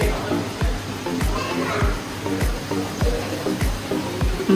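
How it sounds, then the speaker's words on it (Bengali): Fountain water splashes steadily at Radiant Fish World aquarium park in Cox's Bazar, a continuous broad wash with regular low thumps underneath, while children's voices and chatter carry through the scene. "ঝর্ণার সাউন্ড আশেপাশে"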